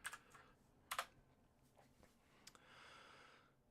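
Brief bursts of typing on a computer keyboard, a quick clatter near the start and another around the one-second mark, then sparse clicks and a soft sustained rustle toward the end, faint and close with no talk.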